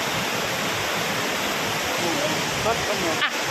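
Waterfall near Luang Prabang, Laos, a steady loud broadband rush of falling water with brief faint voices near the end.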